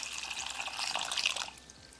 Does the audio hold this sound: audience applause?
no